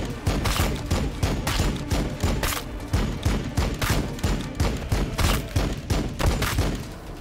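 Rapid bursts of gunfire in the video game Warhammer 40k: Battlesector crackle continuously, loud and close, with dense repeated shots and thumping impacts throughout.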